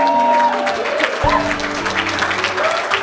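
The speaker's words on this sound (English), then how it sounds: "Can you please give a round of applause for my wife, Victoria and Chimay for that?" Audience applause at a mastermind programme event, a crowd clapping steadily while voices and a whoop cut through, with tonal background sounds mixed in.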